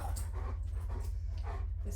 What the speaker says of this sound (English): your dog is barking his head off at a truck outside